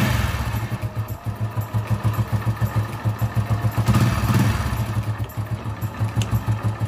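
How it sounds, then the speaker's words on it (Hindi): A BS6 motorcycle engine idles steadily after starting, a close, loud, even run of rapid thumping pulses that continues alone throughout with no talk. "एक बार मैं बाइक जो है स्टार्ट कर देता हूँ"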